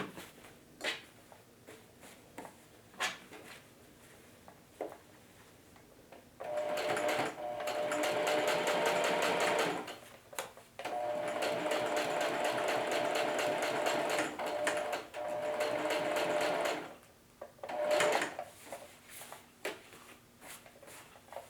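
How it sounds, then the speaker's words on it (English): Sewing machine running a long straight stitch down pant legs, close and steady, in several sustained bursts with brief pauses between them and faint handling clicks around them. "Now I'm going to put on a straight stitch."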